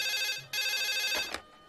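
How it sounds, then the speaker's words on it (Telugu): A telephone rings indoors with a bright electronic trill, two closely spaced bursts of ringing heard clearly and alone before it cuts off. "ఫోన్ వెంకటరత్నం గారికంటే."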